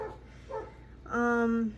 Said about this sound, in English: I hope that dog isn't ruining the video. I don't know what she's barking at.